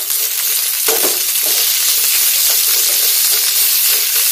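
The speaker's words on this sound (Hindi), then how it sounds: "तो ये पहले पकने देते हैं तेल में" Green chillies and six or seven garlic cloves frying in hot oil in a pan, a loud, steady close sizzle with a few brief stirring scrapes, no talking.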